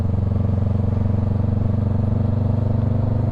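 A Honda Rebel 500 cruiser motorcycle riding on a calm sunny day, its low steady engine drone thrumming continuously and close with rhythmic exhaust pulses and light wind, no talking.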